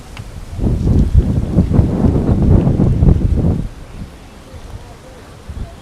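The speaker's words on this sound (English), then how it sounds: "I know it is windy" Gusty wind on Waikiki Beach buffets the microphone in a rough, rumbling roar for several seconds before dropping to a quieter hiss of breeze.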